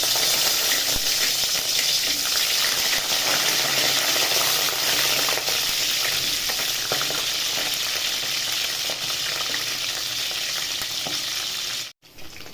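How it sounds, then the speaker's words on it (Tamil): Eggplant pieces frying in hot oil for a Chettinad-style oil brinjal gravy, a loud, steady, close crackling sizzle that runs unbroken for the whole stretch before a brief cutoff at the end. "எண்ணெய் தெறிக்கும், அதனால் கொஞ்சம் தள்ளி நின்று போட்டுக்கலாம்."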